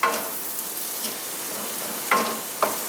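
Onions and celery frying with meat in a pan for a vegetable bean stew, giving a steady close sizzle with a few sharper stirring scrapes near the start and toward the end.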